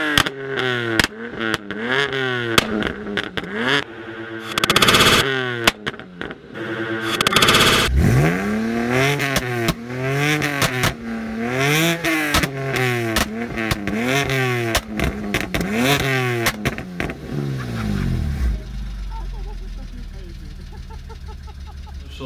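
A BMW 330i with the N52B30 straight-six revs hard in repeated rising and falling sweeps, loud and close, with sharp backfire pops from the exhaust between pulls before settling to a lower rumble at the end.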